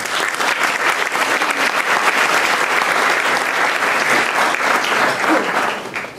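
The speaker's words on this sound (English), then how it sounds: "Please give them a round of applause." Sustained applause from an audience at a global forum on presidential candidates, greeting a speaker and four panelists; dense, steady clapping fills the room for about six seconds, fading slightly at the end.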